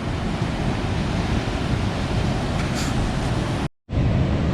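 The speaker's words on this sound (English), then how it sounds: "The waves hit the sea wall, and the promenade here is very wet." Blustery sea waves crash against a sea wall by a wet seaside promenade at Portixol, a loud, continuous roar of surf and wind with a brief dropout near the end.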